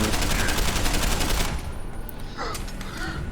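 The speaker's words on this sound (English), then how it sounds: "after I miss a bunch of shots, do the cool reload animation" Automatic gunfire in Deus Ex: Human Revolution rattles loudly in a dense burst for about a second and a half, then gives way to quieter mechanical clicks and clatter of a weapon reload.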